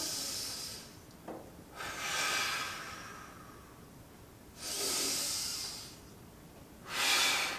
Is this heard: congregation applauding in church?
no